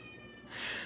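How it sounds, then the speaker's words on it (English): A pet cat lets out a single short meow, close by and fairly loud, rising at the end into a plaintive cry over a faint background hum. "There's my cat. Hi, sweetie. Why are you crying?"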